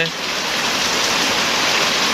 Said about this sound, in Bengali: আমাদের গ্রাম এলাকায় প্রচণ্ড পরিমাণ বৃষ্টি হচ্ছে